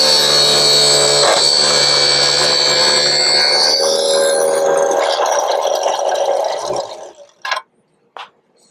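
A mini table saw cuts through half-inch stock in a workshop with a loud, steady whine for several seconds. The blade then spins down and stops, followed by a couple of short clicks.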